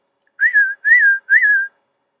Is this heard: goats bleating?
no